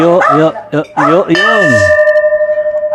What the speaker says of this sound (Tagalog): Ito yung kampana. Oh. Campanilla ng Ciudad Verdadero.